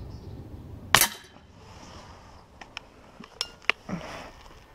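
A sharp loud crack as a Beeman P17 air pistol pellet hits the target, then a few faint light clicks and ticks follow in a quiet indoor room, ending with a soft knock.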